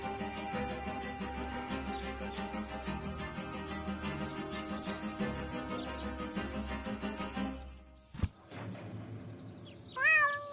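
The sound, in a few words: cat meowing in the video game Deponia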